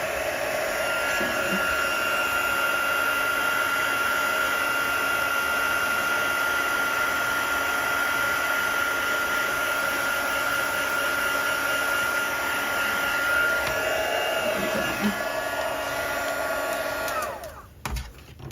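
A hair dryer blows loudly and continuously, close up, while drying watercolour paint on a stamped floral image, then switches off with a few handling knocks at the end.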